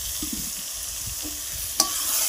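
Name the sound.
jackfruit added to frying spices in a pan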